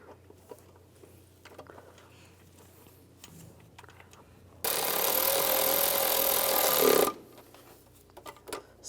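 Bolts on the starter of a 2004-2010 BMW X3 are tightened. Quiet clinks and handling noises give way to a loud, continuous whirring burst from a power tool that lasts about two and a half seconds and then stops abruptly.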